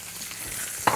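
Lamb sears in a Scholtes MultiPlo pan on a medium setting, a steady loud sizzle with a sharp burst of spitting near the end.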